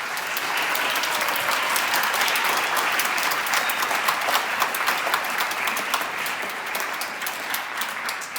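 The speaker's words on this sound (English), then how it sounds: "let's please make sure that we give them a round of applause and recognize their efforts" An audience at a school band winter concert applauding donors, a sustained, dense wash of many hands clapping that stays strong throughout, with faint crowd murmur.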